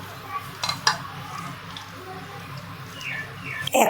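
Four washed duck eggs clink one after another into a metal wok, making a few sharp knocks and light scrapes close by in a quiet kitchen.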